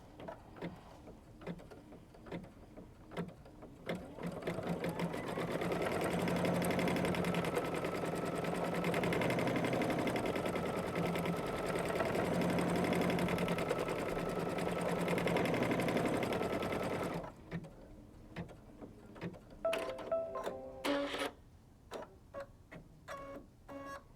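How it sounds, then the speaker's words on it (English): Sewing machine stitching a tack down line on a quilt project, a steady quiet whirring run of rapid stitches lasting about twelve seconds, with scattered clicks and taps before and after. "we're gonna go ahead and do the tack down line."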